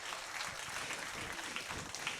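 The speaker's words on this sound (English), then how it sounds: "Everyone give John a huge round of applause" Faint, steady applause from a small show audience during a socially distanced cruise entertainment show, a soft wash of clapping heard from a distance.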